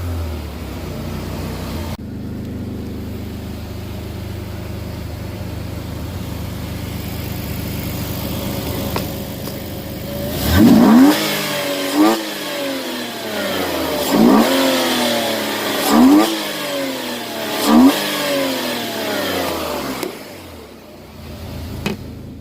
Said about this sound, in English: as you guys can hear, the intake sounds very nice